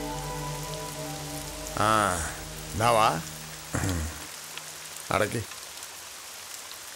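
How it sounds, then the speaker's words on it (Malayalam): Rain falls steadily as a continuous hiss of drops on surfaces, moderately loud throughout while a few short spoken phrases and exclamations break in over it. "മഴ നല്ല ഐശ്വര്യമെന്നാ പറയുന്നേ."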